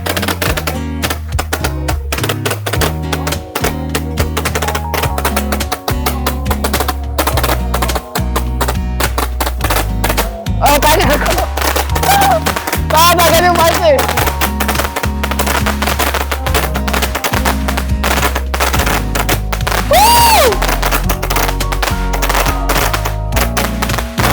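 Firework rockets set off for Hari Raya crackle and burst continuously, with rapid loud pops, whistling streaks rising and falling, and dense bangs layered throughout.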